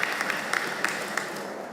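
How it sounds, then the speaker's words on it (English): Audience applause at a college commencement ceremony for the College of Agriculture, a short burst of dense clapping with scattered louder individual claps throughout. "Give another round of applause to Mr. DeCourcy"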